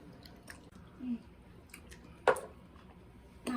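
Close, soft chewing of food during a meal at home, a few faint squishy bites and mouth noises spaced out over a few seconds, quiet and without talk.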